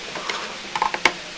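Small sharp clicks as a connector or component seats into place while a desktop computer is being assembled, several quick dry ticks close to the microphone, the last one the crispest.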